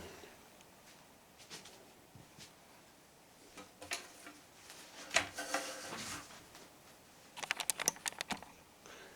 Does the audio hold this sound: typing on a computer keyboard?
yes